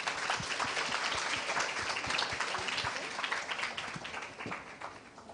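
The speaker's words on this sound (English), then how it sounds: "A huge round of applause," An audience at a fireside chat session during a women-in-sales event applauds at a moderate distance, with a steady wash of clapping that holds throughout and eases slightly near the end, and a faint voice underneath.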